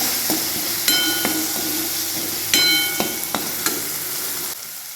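Spices and roasted gram flour frying in hot oil, a steady bright sizzle with several sharp metallic clinks and scrapes of a spoon against the pan, no talking.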